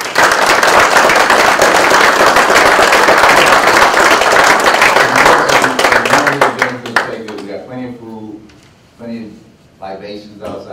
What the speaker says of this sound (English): So I'm going to give them a round of applause.